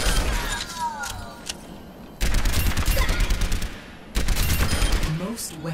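Overwatch gameplay in which bursts of rapid weapon fire hit the training bots, with two dense, loud volleys and scattered shots between them, alongside a voice.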